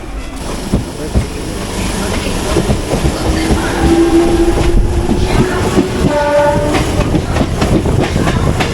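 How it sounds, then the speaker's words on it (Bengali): A passenger train rumbles loudly nearby with rolling wheel clatter, and drawn-out horn-like tones sound near the end. "চলো উঠা যাক ট্রেনে"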